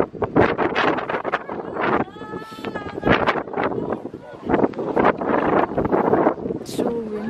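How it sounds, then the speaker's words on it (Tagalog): Strong wind gusts at the LED rose garden of Dongdaemun Design Plaza in Seoul, buffeting the microphone with rough, uneven rumbles while a person talks over it. "It's so windy."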